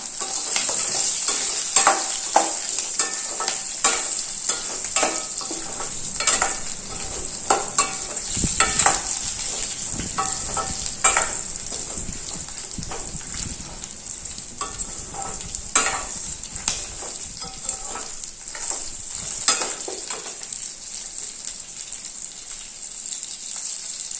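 Shallots and small coconut pieces frying in a pan for fish curry give a steady, close sizzle with repeated scraping and clinking of stirring throughout; no one speaks.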